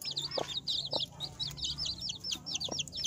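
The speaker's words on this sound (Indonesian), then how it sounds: "ini bukti nyata kalau si ayam joker hobi mengerami, hobi menetaskan, dan hobi bertelur" Joper hen clucking in short repeated bursts close by, a steady run of soft calls with faint background farm noise and no talk.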